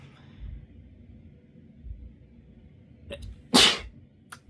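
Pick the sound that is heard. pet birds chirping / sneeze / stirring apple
sneeze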